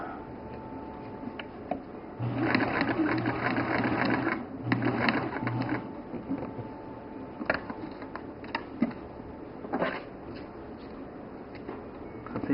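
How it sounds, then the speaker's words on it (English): A sewing machine stitches a zipper onto fabric in bursts, its rapid mechanical stitching whirring for a few seconds, pausing, then starting again with scattered clicks in between. "Now I'm going to sew the other side on."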